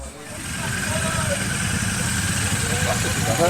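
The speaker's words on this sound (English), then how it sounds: "one of the test rides coming back. Nice Himalayan" A Royal Enfield Himalayan motorcycle returning from a test ride at a dealer demo day, its steady mid-pitched engine drone rising and holding close by, continuous and fairly loud, with outdoor background noise.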